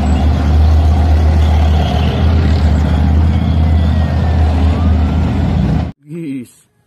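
A toy tank plays its built-in electronic sound effect, a loud continuous engine-like rumble lasting several seconds before cutting off abruptly, followed by a brief voice.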